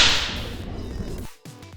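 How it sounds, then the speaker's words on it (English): A spatula strikes knuckles in a kitchen with a single sharp, loud smack at the very start. The sound fades quickly into a quiet rustle. "Any such act will be met with a spatula strike on the knuckles."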